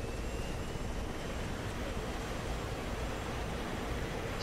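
Su-33 jet engines held at full power on a runway in a video game, a steady, loud, broadband roar that runs unbroken and without talk.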